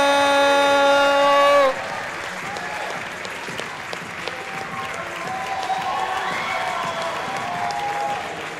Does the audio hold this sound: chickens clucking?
no